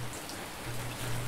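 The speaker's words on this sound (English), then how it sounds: "Uh-oh, it's raining." Steady rain in the storm-chasing game OUTBRK, a continuous close hiss spread evenly with a low hum beneath, no voices.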